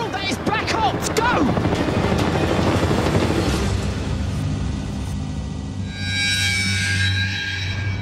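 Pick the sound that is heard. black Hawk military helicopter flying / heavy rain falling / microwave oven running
black Hawk military helicopter flying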